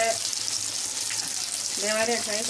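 Masala fish fry in a pan sizzles with a steady, close hiss, and a voice comes in faintly near the end.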